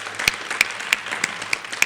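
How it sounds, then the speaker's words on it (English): Applause from an audience at a public art unveiling press event, sparse and uneven with distinct sharp claps standing out over a soft wash of hands for a short burst. "So let's give her a round of applause."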